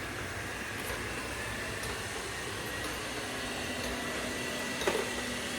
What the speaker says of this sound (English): So let's just go ahead and press start on the other robot vacuum.